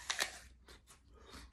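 A couple of crisp, crunchy bites into an apple close up, followed by softer chewing sounds.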